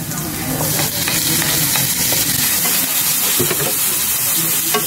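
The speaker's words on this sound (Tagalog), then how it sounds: "naglagay na tayo ng mantika. Bawang, i-brown lang po natin ito." Garlic, onion and tomato fry steadily in hot oil for pork giniling with egg, giving a loud, continuous sizzle with scattered stirring scrapes throughout and no one speaking.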